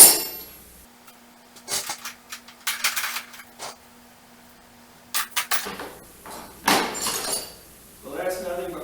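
Pliers, screwdrivers and wrenches clink and clatter in scattered bursts as they are sorted by hand, close and metallic, with quiet gaps and a faint hum between handfuls.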